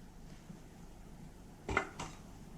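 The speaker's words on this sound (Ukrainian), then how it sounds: "Беру мисочку, в якій буду замішувати фарш." A small bowl set down and handled on a kitchen counter while preparing minced pike for stuffed fish: two short clinks of a dish around the middle, the second fainter, in an otherwise quiet room with no talk.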